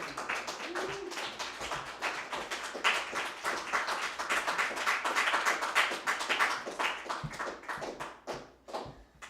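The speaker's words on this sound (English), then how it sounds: "Can we please get another round of applause for Lucas?" Audience applause at an open mic reading night, a dense sustained clapping from a room crowd lasting several seconds, swelling in the middle and thinning out toward the end.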